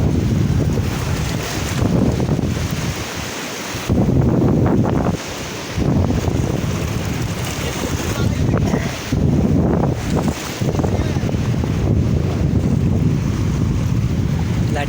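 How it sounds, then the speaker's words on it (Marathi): Sea waves break on a sandy beach at Chinchani in repeated loud surging rushes, with strong wind buffeting the microphone throughout. "लाटा बघा किती येत आहेत."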